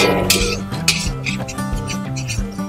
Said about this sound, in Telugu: మళ్ళీ ఒకసారి కలిపేసుకుందాం.